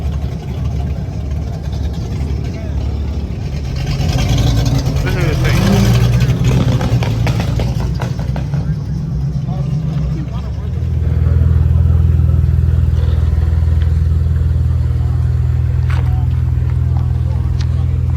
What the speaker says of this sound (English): Listen to that box body. That thing's cammed out.